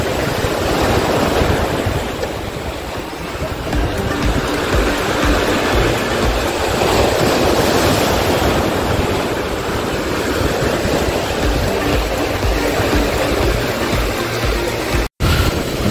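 Continuous roaring wash of ocean waves breaking at Marine Drive, Mumbai, with monsoon approaching, loud and broad with surging swells and some wind rumble, no voices.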